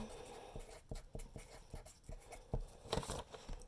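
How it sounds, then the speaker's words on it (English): Marker strokes on a classroom board during a lesson, a run of soft taps and short scratchy squeaks in an uneven rhythm, quiet and close, with a louder smeared stroke near the end. "I'm going to write it on the board"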